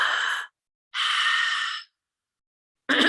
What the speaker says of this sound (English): So it's 2 parts and then 1 full exhale.